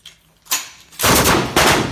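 Guns fire during a joint Israeli and U.S. paratrooper training exercise: two loud, close bursts of shots, the second longer and heavier, ringing out with no talk over them.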